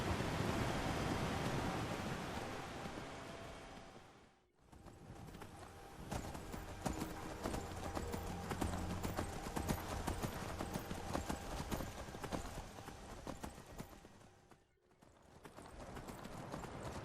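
Horse hooves clop in a steady rhythm while riding in the video game Skyrim, a continuous close gallop under a broad wind-like hiss, with two short drops where the sound briefly cuts out.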